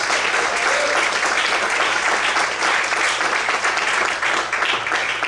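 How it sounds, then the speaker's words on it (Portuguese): Strong, continuous clapping from a worship congregation, loud and unbroken from start to finish, a voice faintly present beneath the applause. "Mais fortes palmas."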